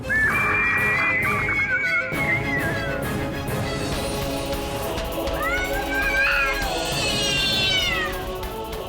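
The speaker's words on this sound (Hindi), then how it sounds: "बिल्ली के रोने की आवाज?" A cat meows in drawn-out, wailing cries, loud and close, with a second rising yowl later; a busy background of voices and noise runs underneath.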